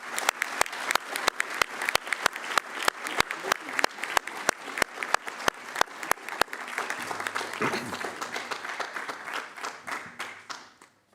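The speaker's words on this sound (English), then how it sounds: "let's applaud on this wonderful moment and also to show appreciation." Audience applause at an innovation forum: many hands clapping in a full, steady burst that runs for about eleven seconds, with sharp individual claps standing out early before the sound thins and fades at the end.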